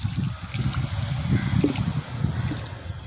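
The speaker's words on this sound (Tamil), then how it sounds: "இப்போ வந்து தண்ணி கொடுத்துடலாம்." Water poured onto freshly mixed potting soil in a repotted nursery rose pot, a close, steady trickle and soft gurgle soaking into the soil for about three seconds, with no talking.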